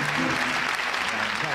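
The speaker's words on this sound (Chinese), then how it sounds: "掌声鼓励一下" Studio audience applause on a Taiwanese variety talk show, a dense steady clatter of clapping lasting under two seconds with voices mixed in beneath it.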